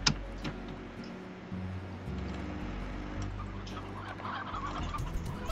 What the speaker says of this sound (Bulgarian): Супер, още 3 петела.